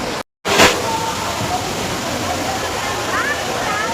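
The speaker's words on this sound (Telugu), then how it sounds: "చూసారు కదా వాటర్ ఫాల్స్." A waterfall roars as a loud, dense, continuous rush of water close by, with a brief dropout near the start.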